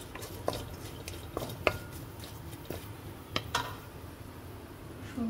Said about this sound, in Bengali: একদম নাড়াচাড়া করে জাস্ট একটু গরম হবে